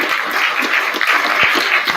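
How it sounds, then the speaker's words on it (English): Audience applause during a Sabbath sermon gathering, a steady, dense wash of many hands clapping that holds at an even, fairly loud level throughout, with no talk over it. "give a round of applause"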